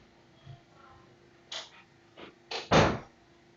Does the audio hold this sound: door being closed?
yes